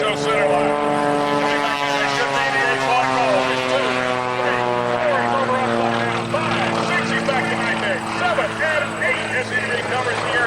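A propeller aerobatic airplane flying a vertical snap roll at an airshow drones loudly with a strong, steady engine tone that shifts in pitch as power comes back, while a commentator talks over it.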